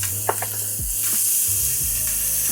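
Corn going into a pan of cooked flour roux sets off a loud, continuous sizzle, with a few scraping stirs and a low rumble underneath, heard close and without talk.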